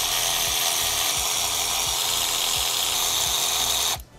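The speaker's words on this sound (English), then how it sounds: "all 4 of our screws on here are gonna be 10 mil socket. So we'll get all these off" A socket ratchet backs out the 10mm throttle body screws on a Cadillac ATS-V with a 3.6L twin-turbo V6, ticking in steady repeated clicks over constant loud shop noise that cuts off abruptly near the end.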